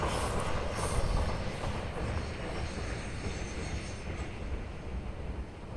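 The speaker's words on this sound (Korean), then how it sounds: "저쪽에 화물열차가 지금 지나가고 있는 모습이 보이고 있는데" A freight train rolls past at Cheoram-dong in Taebaek, a steady broadband rumble and rail roar holding for several seconds at a moderate distance, with no voices over it.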